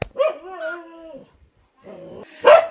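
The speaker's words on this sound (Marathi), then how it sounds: "कोणाचं हा कुत्रा आलाय" A stray dog near a village wedding pavilion gives a few close barks and yelping whimpers, with a pause between them and a sharper bark at the end.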